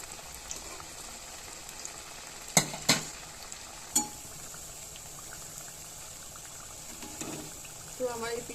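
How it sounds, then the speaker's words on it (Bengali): Dudh puli rice cakes (pitha) frying in hot oil: a steady bubbling sizzle runs throughout, broken by a few sharp clinks and stirring knocks nearby. "তো তেলটা আমার গরম হয়ে গেছে, আমি বাকি পিঠেগুলো দিয়ে নেব।"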